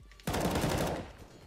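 In the video game CS:GO, a sudden loud burst of gunfire cracks out and rings into a short fading tail, standing alone in a brief moment.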